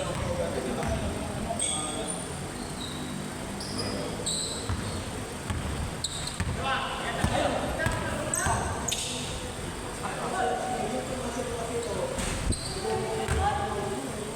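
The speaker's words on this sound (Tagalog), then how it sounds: "Layo ng talbog." A basketball bounces on a court during a game, with scattered dull thuds and sneaker squeaks under ongoing chatter and crowd voices.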